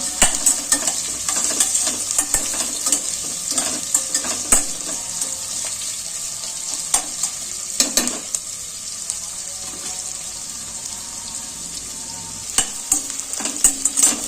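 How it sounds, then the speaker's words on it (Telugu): Sliced onions fry lightly in a pan for a coriander-mint green pulao, giving a continuous bright sizzle with repeated soft clanks and scraping as a spoon stirs them, close by and with nobody talking. "లైట్గా ఫ్రై అయ్యే వరకు ఫ్రై చేద్దామండి ఇవి"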